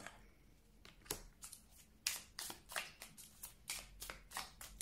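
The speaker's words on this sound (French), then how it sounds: "ici, on sort la carte du bonheur" Cards drawn from a deck for a fortune-telling reading, a string of soft, papery slides and snaps, close and quiet, steady and roughly evenly spaced.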